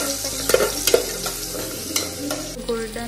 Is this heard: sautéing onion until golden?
yes